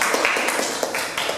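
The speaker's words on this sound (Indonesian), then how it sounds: "Kita berikan tepuk tangan ya untuk kelompok 3" Classmates in a classroom clap for group 3, a short burst of dense, brisk hand claps that carries on steadily at close range.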